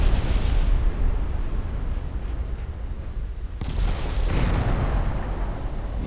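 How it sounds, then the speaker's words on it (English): Heavy 8-inch naval guns firing during a warship battle in the game Ultimate Admiral Dreadnoughts, heard as a continuous rumbling barrage of booms with a sharper report partway through and no talk. "The 8-inch guns are doing it."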